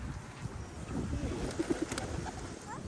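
Pigeons or doves at a dairy farm in El Paso, Texas, give a few soft, low coos in quick succession against a quiet outdoor background.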